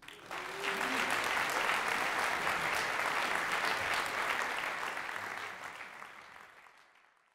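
An audience applauds a guest at a university jazz orchestra concert, dense sustained clapping that swells quickly, holds for several seconds and then fades out, with a brief voice near the start.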